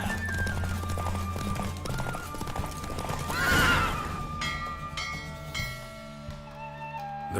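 Horse hooves clip-clop rapidly at a gallop during a race in The Witcher 3, with horse whinnies and snorts over a steady music bed, the hoofbeats swelling loud midway.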